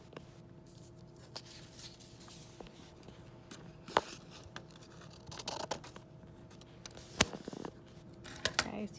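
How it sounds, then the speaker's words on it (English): Scissors cut paper close up in quiet, irregular snips and crisp clicks, with soft rustling of the sheet between cuts and no talking. "Now I'm simply just going to take my scissors, and anywhere where I have a mark that I made"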